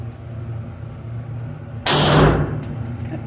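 A single loud, sharp gunshot from a Glock 42 pistol at a shooting range, an abrupt broadband crack with a short decaying tail over quiet background hum.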